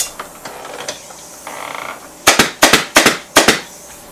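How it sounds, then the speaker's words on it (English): A staple gun fires repeatedly into woven webbing on a manufactured dining chair seat, giving about seven sharp, close snapping clacks in quick irregular bursts after some quieter handling noise. "if you're getting confident with your staple gun, you can just staple the fold down like so"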